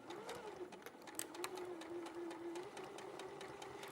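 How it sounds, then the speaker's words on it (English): A sewing machine stitches along fabric wildlife panels, a fast steady mechanical whir with rapid needle ticking, close but quiet and running continuously. "So I'm just going to sew this along here."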